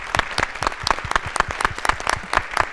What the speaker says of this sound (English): What a loud clap. I like that. It's an assertive clap.